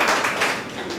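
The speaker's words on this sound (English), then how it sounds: "Let's give him a round of applause" Applause from an audience at a trade and investment website launch in Ghana, greeting a speaker: a steady, dense wash of clapping for the full second, fairly loud and continuous without any voices.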